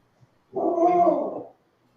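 A dog gives a single drawn-out whining bark at close range, lasting about a second, with quiet around it and no talk.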